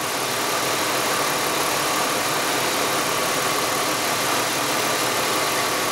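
Car engine idling steadily, checked by ear for hissing, noises and vibrations; a continuous, even mechanical hum with no talk over it.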